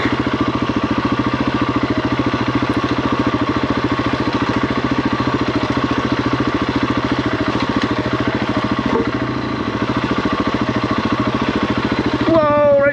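A KTM 690 motorcycle engine thumps steadily while riding slippery hard singletrack, with a loud rapid pulsing drone, slight dips under clutch work and a rising rev near the end.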